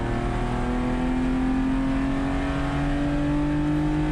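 BMW M3 or Acura RSX race car at full throttle on a damp circuit in the USTCC 2024 Round 1, engine drone rising steadily in pitch, loud and continuous in-car.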